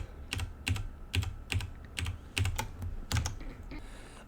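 Computer keyboard keys tap in quick bursts while Emacs commands are entered, about a dozen crisp, close clicks in an uneven rhythm with no talking.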